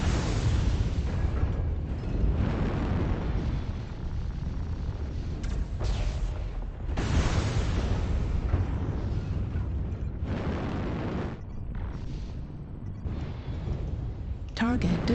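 Booming mech explosions from MechWarrior Online, a dense run of loud rumbling blasts and bursts that swell and fade across the clip, with a robotic cockpit voice speaking over the battle.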